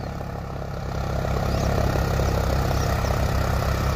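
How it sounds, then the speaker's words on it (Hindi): A John Deere 5050D tractor engine labours under load in high gear, a steady, loud, low diesel drone with dense rumble that swells slightly after the first second and holds constant throughout. "ये देखिए भाइयों, दब के ट्रैक्टर चल रहा है पहले के हाई गियर में।"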